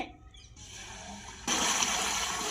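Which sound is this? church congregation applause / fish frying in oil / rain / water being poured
water being poured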